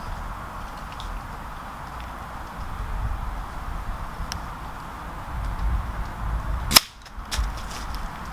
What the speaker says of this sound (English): Rob's going to shoot it with a 177 first